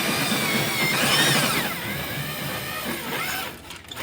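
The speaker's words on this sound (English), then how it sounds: "it's easy to drill holes in" A power drill bores holes through an aluminum truck frame on a Peterbilt 359, a steady whirring grind running nearly continuously at close range before easing off at the end.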